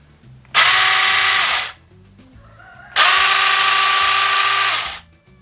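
A tiny battery-powered chainsaw runs in two separate bursts of about a second each, a steady high electric whine with a quick start and a fast wind-down, fairly close and alone.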